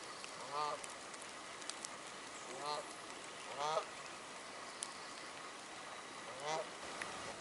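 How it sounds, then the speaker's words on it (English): Canada geese honk several times at spaced intervals, moderately distant, over a steady background hiss of flowing water. "That's Branta canadensis, Canada geese."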